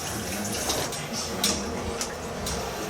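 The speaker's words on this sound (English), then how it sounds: "Wash my hands again." Tap water runs steadily into a kitchen sink as hands are washed during home cheesemaking, a continuous close wash of flow with a few louder splashes.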